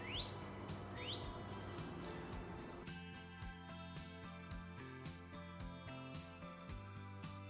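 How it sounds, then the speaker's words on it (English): Birds chirp in quick, high upswept calls in an evening backyard in Sugar Land, Texas, then fade behind a steady, dense backdrop of outdoor noise and tonal hum. "You can hear the birds chirping"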